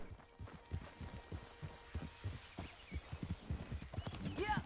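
Steady clip-clop of horse hooves trotting at an even rhythm in Red Dead Redemption 2, fairly close, with a brief whinny-like sound near the end.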